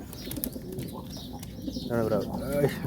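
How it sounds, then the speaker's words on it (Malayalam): Pigeons coo in a loft packed with birds, the soft throaty calls swelling louder toward the end over a steady background murmur, with voices talking nearby. "ഫുള്ള് പ്രാവാണ് ആ കൂടെ കൂട് മൊത്തം പ്രാവാണ്"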